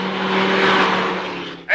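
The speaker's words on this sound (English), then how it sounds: "I heard the sound of a fast-moving car" A fast-moving car rushes in as a radio drama sound effect, a loud sustained roar that swells and then fades slightly before a sharp burst at the very end.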